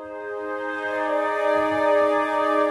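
A woodwind ensemble patch weighted toward flutes and clarinets sustains a steady chord, growing slightly louder, with no voices.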